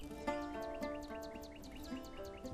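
A bulbul sings a repeated, bright chirping phrase over a steady sustained tonal background, the bird fairly faint and with no talking.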